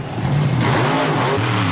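A supercharged monster truck engine, mid-mounted behind the driver, revs loudly with a rising and falling roar, close and dominant with no voices.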